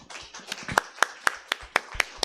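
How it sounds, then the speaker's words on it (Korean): Rhythmic clapping in a church service, sharp evenly spaced claps about four per second that start soft and grow louder, close by with no voices. "박수요."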